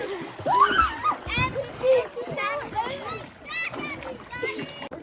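Children splash and swim in cold river water beside sandbars in Alaska, with water sloshing close by under steady, excited kid chatter and shouting.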